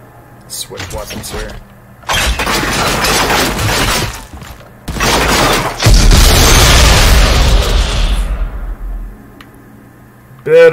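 A big gun fires in an Unreal Engine 4 game, with loud sustained blasts and booming, shattering bursts in two long stretches, then a short burst at the end.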